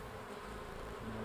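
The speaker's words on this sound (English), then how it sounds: "She'd been stung. Bees!" A bee swarm buzzes steadily in a scary campfire tale, a continuous droning hum holding for the whole moment with no talk over it.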